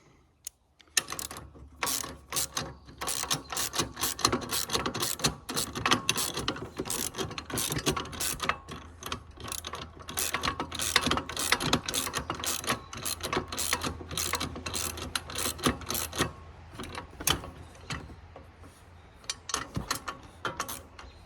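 A ratchet tightens the blade mount bolts on a Swisher Rough Cut pull-behind mower, clicking rapidly and continuously in close, loud bursts with brief pauses as the handle swings back.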